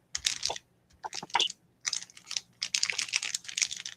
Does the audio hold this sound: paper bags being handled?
yes